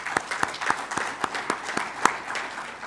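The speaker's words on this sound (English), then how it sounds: "one big applause for all of them" Symposium audience at a closing ceremony clapping in a fairly even rhythm, distinct sharp claps over a light background of scattered applause.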